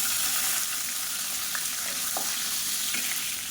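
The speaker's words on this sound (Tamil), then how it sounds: "இப்போ கடுகு சோம்பு பொரியுது" Mustard and fennel seeds splutter in hot oil with a continuous close crackling sizzle and a few sharp pops, steady throughout with no voices.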